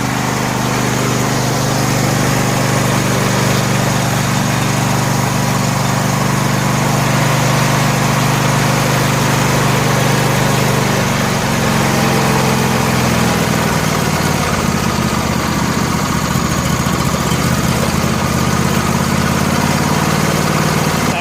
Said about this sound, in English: She's still idle at all.